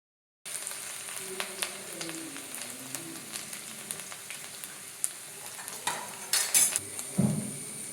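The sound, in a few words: ginger frying in coconut oil with mustard seeds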